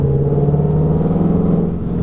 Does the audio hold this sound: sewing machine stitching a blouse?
no